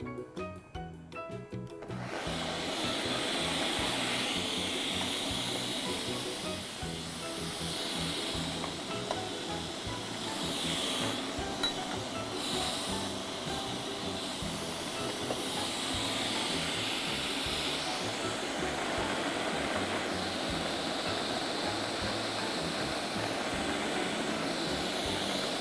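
A kitchen blender whirs while mayonnaise with pine nuts is blended. It starts abruptly after a brief clatter, then holds a loud, steady, high-pitched motor roar for over twenty seconds with no talk.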